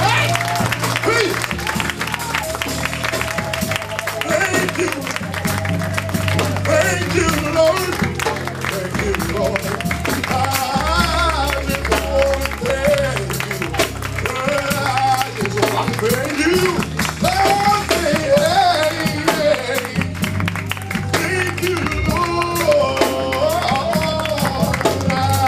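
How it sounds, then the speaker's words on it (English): A church congregation claps in praise during a worship service, loud rhythmic hand clapping mixed with music, singing and voices running continuously throughout. "Let's give the Lord a hand clap of praise"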